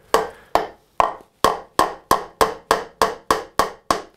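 A hammer drives a nail into wood with about eleven evenly spaced, sharp, ringing blows, close and loud, with no voices.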